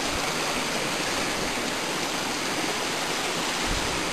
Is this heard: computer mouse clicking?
no